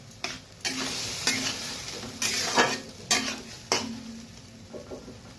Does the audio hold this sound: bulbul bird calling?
no